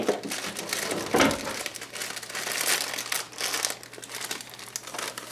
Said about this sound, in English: You need a pair of scissors, it seems, as this plastic is kind of stretchy and hard to open.